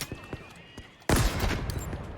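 Heavy gunfire in Halo Infinite on Legendary difficulty: scattered lighter shots, then a sudden loud, dense burst of sustained automatic fire and explosions that continues to the end, with a voice briefly heard.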